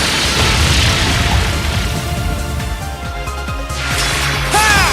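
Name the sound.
attack explosion in Trails of Cold Steel II video game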